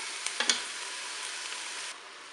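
Beef pieces and chopped onion browning in a Cookeo multicooker for boeuf bourguignon, a soft steady sizzle with a few brief stirring taps near the start, then fading lower.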